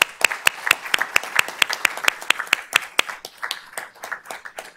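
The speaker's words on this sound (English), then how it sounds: "let's give them a round of applause." Applause from a small audience at a school board of trustees meeting, a sparse crowd clapping with distinct, separate hand claps in an uneven rhythm, steady throughout with no talking.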